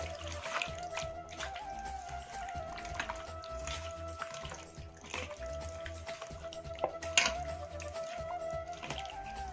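A spoon works through a chicken mixture with a little fresh cream in a home kitchen, making soft, wet clicking and squelching sounds in a steady, irregular rhythm, close but fairly quiet.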